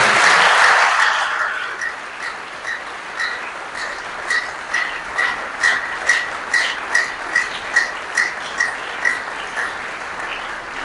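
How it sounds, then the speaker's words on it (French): Church congregation at a Holy Thursday mass applauds the priests: a burst of clapping that thins out, then settles into a slow rhythmic beat of synchronized claps repeating steadily. "Et je voudrais que vous les applaudissiez."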